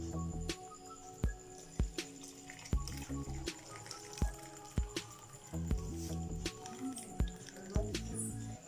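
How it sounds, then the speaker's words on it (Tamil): Masala tea being poured through a strainer gives soft liquid trickles and squishy drips, mixed with light clinks of utensils in a quiet kitchen, with no talking. "இப்போது டீயை ஃபில்ட்ரு பண்ணி எடுத்துக்கிறேன்"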